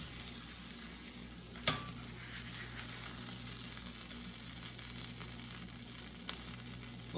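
A homemade chicken quesadilla with melting cheese sizzles steadily in a hot pan, a constant soft frying hiss throughout with one sharp clink or scrape near the start and a fainter tap late on.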